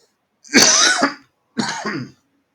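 Two harsh bursts of coughing and throat clearing from one person, close and loud, the first longer and the second shorter after a brief pause.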